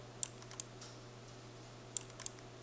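Computer keyboard and mouse clicks while duplicating blocks in a programming lesson: four faint, sharp clicks in two close pairs, quiet and isolated, with no talking.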